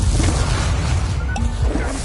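Confringo blast spells from the Hogwarts Legacy video game burst in loud, dense crashing bursts with a whooshing edge, several impacts packed into two seconds, close and forceful, with no talking.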